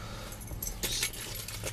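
Keys jangle and clink in short bursts as they are pushed into a pocket beside an old Chevy 350 truck, close and fairly quiet, with no talking.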